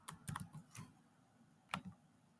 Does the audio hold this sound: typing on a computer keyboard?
yes